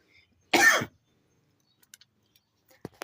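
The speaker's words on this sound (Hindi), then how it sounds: "थोड़ी सी खांसी आ गई" One short, sharp cough sounds close by, followed by quiet with a few faint clicks and taps.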